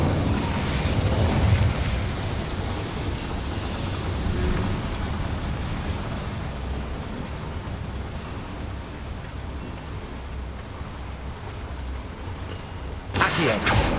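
A fiery spell explosion in the Hogwarts Legacy video game on PS5 gives a loud, sustained roaring blast that rumbles on for many seconds, followed near the end by a second sharp burst.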